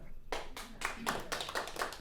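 An audience claps in a short, uneven burst of applause that starts abruptly and carries on at moderate loudness, with no one speaking over it.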